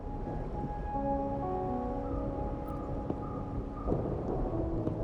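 Steady rain with low rolling thunder in the video game Wuthering Waves, a continuous dense wash of rainfall lasting throughout under a faint tonal musical background, with no speech.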